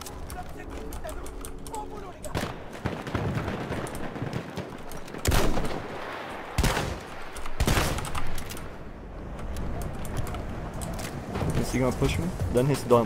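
Sniper rifle shots fire in Battlefield 1 gameplay on the Prise de Tahure map: a few loud, sharp cracks stand out against steady background battle noise, while a player talks over the action.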